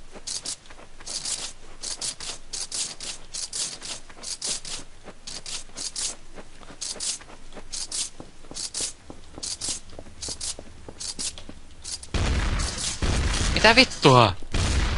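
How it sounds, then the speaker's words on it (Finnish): Gunfire crackles in Counter-Strike: Source as quick bursts of shots ring out in rapid, uneven clusters, loud and close, before a harsher noisy stretch near the end, with someone speaking briefly. "Miten vitussa sä ammut mut ennen kuin mä näen sut?"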